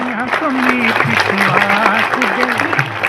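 An audience claps steadily at a Seva Bharati gathering for Kargil Vijay Diwas disaster training. A loud voice talking over the crowd largely covers the applause.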